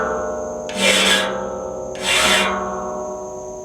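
Chainsaw chain teeth being sharpened with a file: two separate rasping strokes, each about half a second long, close and clear against a quiet background.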